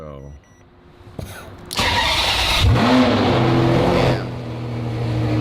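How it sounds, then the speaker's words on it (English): A Ferrari 599 engine fires and revs hard up close, a loud rising roar that holds, then eases back to a rumbling idle, with a man briefly exclaiming over it. "How loud this car is right now."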